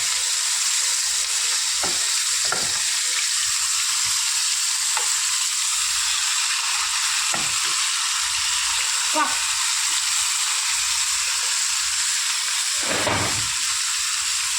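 Fish frying in well-heated oil in a clay pot gives a steady, loud sizzle with a constant hiss, broken by a few soft bumps and scrapes.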